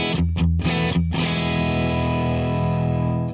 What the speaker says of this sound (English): Archer with the Rootless tree